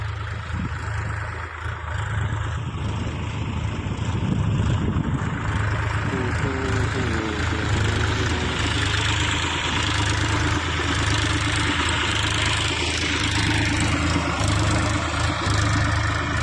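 A Mahindra DI 241 tractor engine runs steadily in a BT cotton field, a continuous low droning chug that holds at a constant level throughout, with faint voices underneath.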